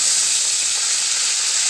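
Pieces of eggplant frying in hot oil make a loud, even, hissing sizzle up close, with no voices.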